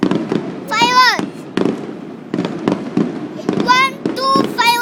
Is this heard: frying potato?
no